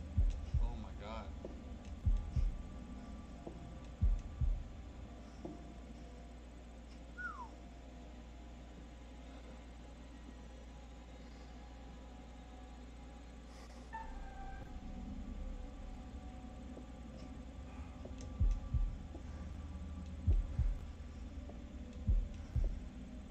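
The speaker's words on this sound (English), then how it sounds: "Press A in the time of the heartbeat." Heartbeat thuds in a Dark Pictures horror game quick-time event, a low steady hum and drone throughout with paired soft beats recurring in a slow rhythm, clustered near the start and end.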